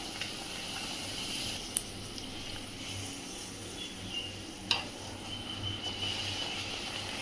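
Puri dough frying in hot oil gives a steady soft hiss and bubbling sizzle, with a few sharp crackles and pops along the way; close and moderately quiet, no talking.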